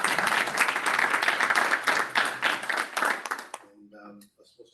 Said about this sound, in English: So a round of applause for our retirees.